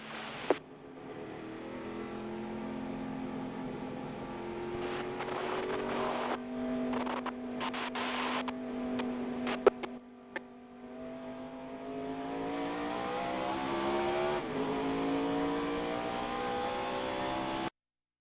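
NASCAR Cup Series race cars at Kansas in October 2006, a steady engine drone rising and falling as the field runs under caution and heads down pit lane, with one sharp burst midway.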